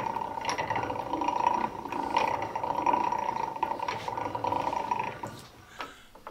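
A spinning flywheel on a hand tool gives a steady mechanical whir with light rattling and ticking close by, then slows and fades toward the end.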